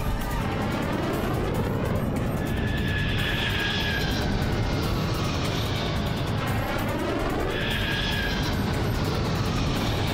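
A loud, roaring jet airliner engine drones continuously as the plane dives, with a whining tone that rises and sweeps as it passes close.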